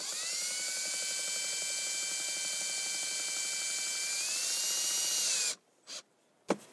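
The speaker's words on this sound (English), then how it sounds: "I'm just going to screw that in." A power driver whines steadily as it drives a screw into a liner, its pitch rising slightly just before it stops. A few short buzzes and clicks follow, up close, with no speech.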